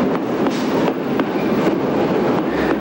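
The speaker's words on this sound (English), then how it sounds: "The Friedrichstrasse train station in East Berlin." A train at Friedrichstrasse station in East Berlin rumbles steadily as a close, continuous roar, with a few faint clattering wheel knocks and a light squeal near the end.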